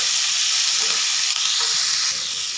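Tomatoes and onions sizzle steadily in a hot pan, giving a loud, continuous frying hiss with faint stirring underneath.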